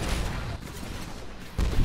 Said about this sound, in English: There's explosions everywhere